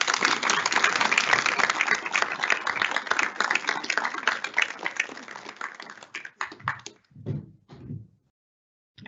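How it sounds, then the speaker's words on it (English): Honors banquet audience applauds, a moderately loud burst of clapping that carries for several seconds, then fades into a few scattered last claps and a brief murmur before falling quiet. "So a round of applause for Maddie."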